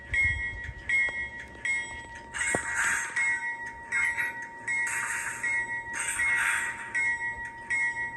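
Factory-installed DCC sound decoder on a ScaleTrains BNSF Dash-9 model locomotive playing coupling effects: repeated bursts of clanking, hissing air and faint ringing tones in a steady rhythm of about five pulses, close and moderately loud with no talking.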